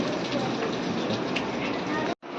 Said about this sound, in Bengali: একটা কৃত্রিমভাবে বৃষ্টিপাত ঘটানো হচ্ছে